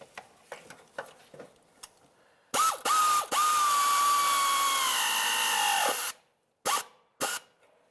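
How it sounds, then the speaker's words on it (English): Exhaust manifold mounting nuts on a Mercury Grand Marquis are snugged up with a power tool: a few short clicking bursts, then a long loud whirring run of several seconds, followed by two brief bursts. "Now we can start snugging up each of our mounting nuts."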